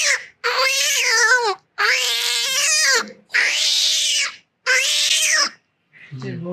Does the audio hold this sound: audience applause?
no